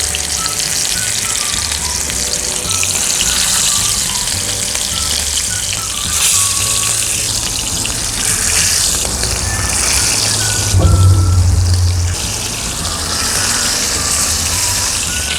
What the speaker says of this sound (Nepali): अब हामीले कुइललाई फ्राई गर्नुपर्छ र हिटलाई चाहिँ मिडियम हिटमा राखिदिनुपर्छ।